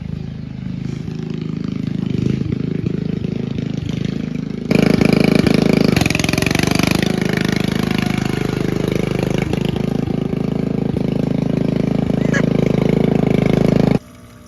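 A Ford 300-6 inline-six pulled from a junkyard runs on a 1-barrel carburetor, a steady loud mechanical drone that jumps louder a few seconds in, holds for about ten seconds, then cuts off abruptly.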